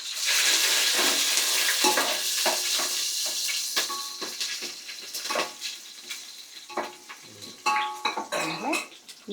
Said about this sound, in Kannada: ಎಣ್ಣೆ ಕಾದಿದೆ, ಇದಕ್ಕೆ ಈ ಪಲಾವ್ ಸಾಮಾನೆಲ್ಲ ಹಾಕೊಳ್ಳೋಣ.